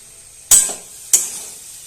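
Soybean momo filling being stirred in a pan over heat, two sharp scraping strokes a moment apart, each followed by a short fading sizzle, close and clear with no talking.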